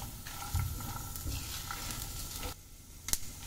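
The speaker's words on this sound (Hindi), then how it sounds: "ये देखिए 1 से 2 मिनट में ही ये मूंगफली जो है ये ऐसे फटने लग गई हैं। आप देखिए अच्छे से भुनने लग गई हैं।" Peanuts and dry chillies roast in a pan for a dry street-food chutney, giving a soft, steady crackle and sizzle with light stirring scrapes and a small clink near the end, faint and close.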